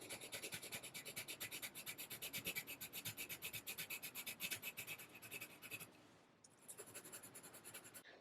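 A charcoal pencil scratches back and forth across paper in quick, regular rubbing strokes, close and fairly quiet, pausing briefly before the strokes start again.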